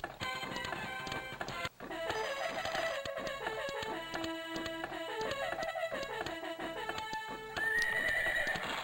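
Horses neigh and gallop with clip-clop hoofbeats in a horse race inside a Sega Saturn game, layered over bright synthesized game tones and heard without talk.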